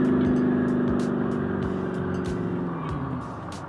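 A Factory 5 GTM sports car, a 2011 model, roars past close by in a loud flyby, its engine note sliding downward and fading slightly as it moves away.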